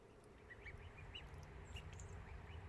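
Young ducks quack in quick, soft, high peeps over a steady outdoor rumble, several voices overlapping close by, fairly faint.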